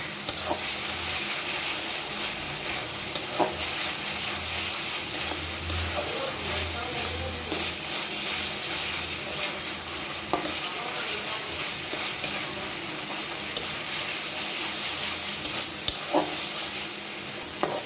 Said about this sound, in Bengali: সামান্য জল দিয়ে সব কিছু ভালো করে কষিয়ে নেব একটু সময় নিয়ে ভালো করে কষিয়ে নিব